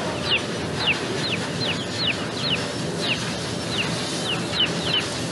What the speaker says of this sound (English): See, that's a baby chicken.